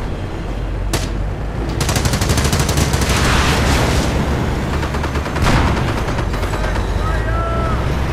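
Submachine gun fire in the World War II strategy game Company of Heroes, loud rattling bursts of automatic gunfire with battle noise, and someone narrating over it.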